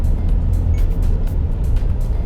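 2017 Subaru Legacy Sport cruising at around 35 mph, steady low road and engine rumble from inside the cabin with light tire noise, continuous throughout.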